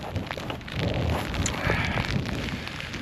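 Steady rain falling outdoors on the coastal path between Kirkby in Furness and Barrow in Furness, a constant close wash of drops with no talking.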